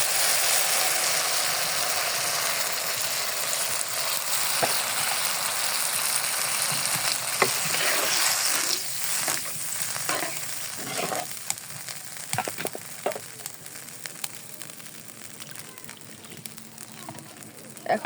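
A tomato and rohu fish curry sizzles in a pan, the hiss loud at first and then easing after water goes in, while a spoon scrapes and clicks in irregular strokes through the second half.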